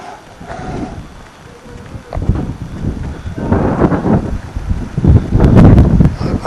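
Strong wind buffets the microphone in rumbling gusts that grow louder toward the end.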